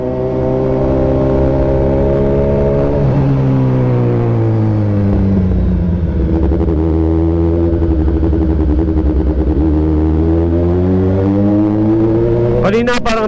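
A Suzuki GSX-S750 naked motorcycle engine hums loudly while riding, its steady tone dipping and climbing as revs shift, with wind rush throughout.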